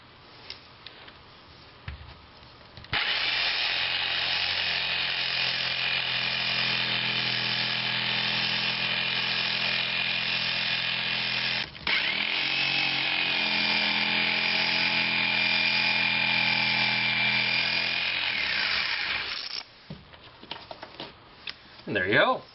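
A power tool cuts to enlarge a hole in drywall, close to the electrical wiring, making a loud, continuous buzzing rasp for about sixteen seconds, with one brief pause partway through and quieter handling sounds before and after.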